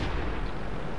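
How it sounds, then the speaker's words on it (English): Tank cannon fire in the World of Tanks video game: a loud, dense, booming blast with a rumbling tail that fills the whole short moment, with no talking over it. "He was shooting you."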